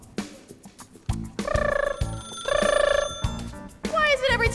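A telephone rings as a stage sound effect during a high school theatre performance of Hairspray, giving several bursts of bright electronic trilling separated by short gaps, with stage voices and thumps between them.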